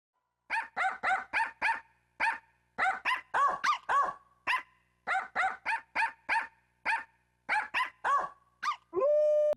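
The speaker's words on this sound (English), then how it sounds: "In Wii Music, you can add barking to your tunes by simply pawing the air." Barking from the Wii Music video game, with a rapid run of short, loud, near barks in rhythmic bursts that follows a tune's phrasing, then ends on one longer held bark-like tone.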